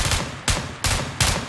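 Bursts of gunfire in PUBG Lite on PC, with four sharp loud volleys in quick succession, each decaying before the next, and no voices over them.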